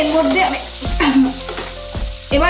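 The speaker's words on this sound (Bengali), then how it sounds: "মোটামুটিভাবে চালটা আমি গোবিন্দভোগ চালটা আমি ভেজে নেব।" Gobindobhog rice frying in a pan crackles and sizzles loudly up close, broken by several sharp scraping knocks as it is stirred.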